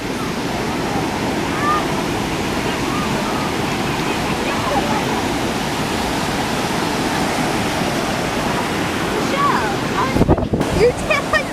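Ocean waves wash up on a beach in a steady, loud rush of surf with wind across the microphone, and people talk over it near the end.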